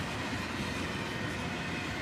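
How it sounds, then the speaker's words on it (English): A northbound freight train with a pair of GE locomotives at the head end rolls past, a dense, steady roar of wheels and rail noise filling the whole stretch with no break, loud and close. "this northbound would go by with a pair of GEs on the head end"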